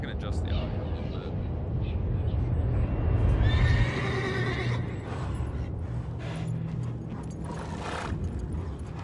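A horse in The Witcher 3 neighs loudly in a long, wavering whinny over steady game background noise and music, with hoofbeats and other effects around it.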